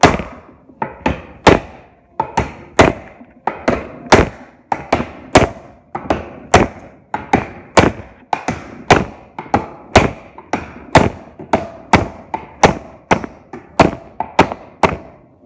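A wheel bearing on a boat trailer driven in with blows from a wooden board instead of a steel hammer: a steady series of about thirty sharp, close thuds in quick, even rhythm, alone without talk.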